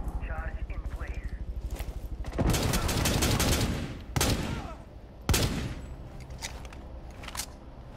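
Shotgun blasts in the video game Rainbow Six Siege, with a few loud, close booming shots spaced a second or two apart over a steady background hum and game noise.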